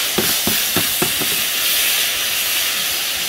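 Lemon pieces sizzle in hot oil in a pan, a steady bright hiss throughout, with a few soft rhythmic stirring scrapes near the start, close and fairly loud, no talking.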